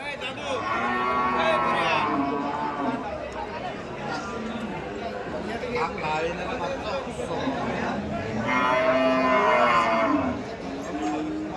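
Cattle moo repeatedly amid a busy, noisy crowd at the Dhule cow market, with people chattering and calling out nearby throughout.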